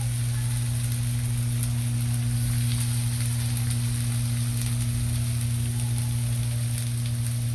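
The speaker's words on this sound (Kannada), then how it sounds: "ಇದು ಸ್ವಲ್ಪ ಫ್ರೈ ಆಗಲಿ" Raw banana slices fry in a pan with a continuous, dense sizzle over a loud, steady low hum. The sizzle stays even throughout with no voices.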